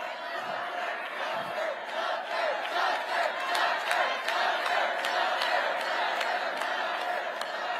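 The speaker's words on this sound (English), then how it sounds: "It turns out the crowd was yelling Tucker, as in Tucker Carlson" A large crowd at a Christian nationalist gathering chants a single name in steady rhythmic bursts, loud and continuous, with cheering and a few claps mixed into the roar.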